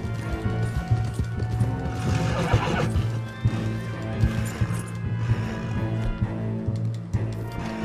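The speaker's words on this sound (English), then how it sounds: "Make sure you gotta calm down your horse in this situation." Horse neighing and hooves clattering in the video game Red Dead Redemption 2 during a getaway by a train, with repeated whinnies over steady galloping and a low background hum.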